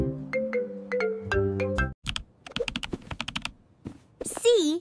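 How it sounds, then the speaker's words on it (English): Rapid, crisp keyboard clicks in a fast run follow a bright musical jingle, ending with a playful warbling tone; a voice is also heard in the clip. "C is for coder, typing fun blocks that make games come alive."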